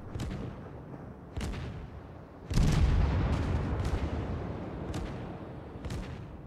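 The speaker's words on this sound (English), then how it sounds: "I start firing on the destroyer that's sitting in the smoke cloud" Naval guns of the cruiser Mogami fire in the World of Warships video game, several distant muffled booms at uneven intervals, one heavier blast rumbling longer, fairly quiet overall.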